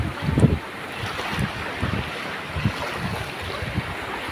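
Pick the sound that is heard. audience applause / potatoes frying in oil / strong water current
strong water current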